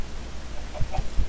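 Chickens clucking in the video game Minecraft: three short, close clucks in quick succession over a soft background hum.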